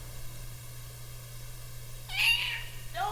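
A cat meows twice over a low steady hum, a short rising-falling meow followed a moment later by a second briefer one, close and moderately loud.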